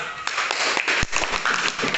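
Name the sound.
audience clapping for group number two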